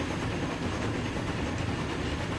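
A train rolls past in the Transport Fever 2 video game, a steady, dense rumble of wheels and carriages at a constant loud level for the whole stretch.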